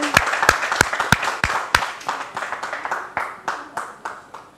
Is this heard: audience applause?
yes